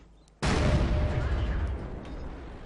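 A sudden loud tank cannon blast from a KV-1 battle in a tank video game, a sharp boom followed by a long rumbling decay that slowly fades over a couple of seconds.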